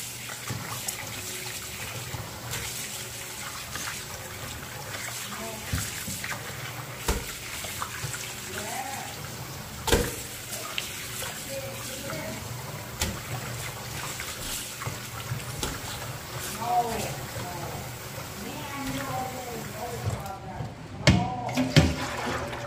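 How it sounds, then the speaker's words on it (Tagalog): Running water rinsing beef internal parts (kaleskes) for a Pangasinan dish, a steady trickling and splashing wash with occasional clunks and handling noises, close and moderately loud throughout. "and then huhugasan natin ng tubig"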